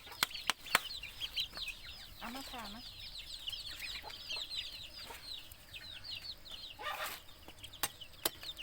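Chickens clucking in a coop where ducks and chickens are being fed, a steady run of overlapping clucks with a few louder calls, moderately near, while a person speaks briefly.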